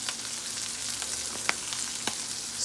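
Soy hamburger stir fry with green onions sizzling steadily in a pan, a constant frying hiss with a few sharp crackles and pops, close and moderately loud, no voices.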